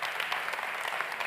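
Dense, steady applause from an audience at an awards gala, many hands clapping together in a continuous wash of sound, fairly loud and unbroken throughout.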